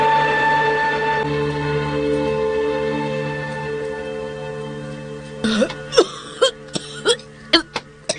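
In a radio drama, a series of short, sharp coughs breaks out in quick succession after a stretch of steady tonal background sound.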